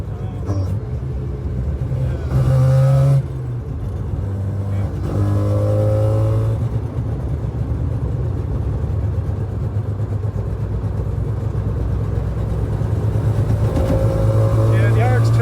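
Old Mazda RX2 on the move, a steady low engine drone with rattles and shakes from the body, heard from inside the cabin while people talk over it.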